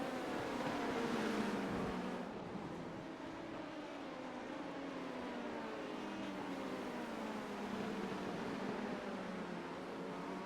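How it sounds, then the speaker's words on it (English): Heavy rain on a wet race track in the iRacing sim, a broad steady hiss and wash with a low engine drone from an LMP2 prototype underneath, continuous throughout. "It is raining though, quite a bit at the moment."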